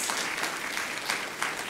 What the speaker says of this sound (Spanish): le vamos a brindar un aplauso a la restauradora